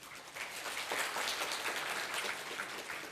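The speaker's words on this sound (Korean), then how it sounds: "박수로 맞이해 주세요." Conference audience at PyCon Korea 2019 lightning talks applauding a speaker taking the stage, a steady dense wash of many hands clapping throughout at moderate distance, with no talking.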